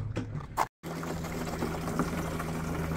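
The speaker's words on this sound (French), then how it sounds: "je remplis en eau et je vous reprends." Water flows from a cemetery tap into a van's water tank, a steady close rushing that starts after a brief clatter and short silence, then runs on evenly with a faint low hum beneath it.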